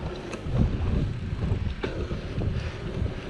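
Wind buffets the microphone in a steady, gusty rumble, with no voices heard.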